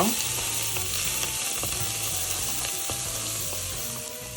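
Spices and coral lentils stirred in a hot pot for lentil soup give a dense, continuous sizzle close by, with a rhythmic scraping of the spoon running through it.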